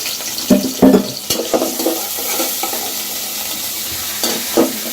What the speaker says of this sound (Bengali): পেঁয়াজ কুচিটাকে আমি নাড়বো কিছুক্ষণ নেড়ে, লাস্ট ব্রাউন টাইপের হবে